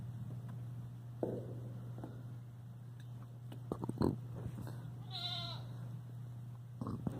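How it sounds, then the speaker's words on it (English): Goats bleat on a farm where sheep are also kept, a few distinct calls rising over a steady low hum and light outdoor background, with one clear wavering bleat standing out near the end. "Here's some goats."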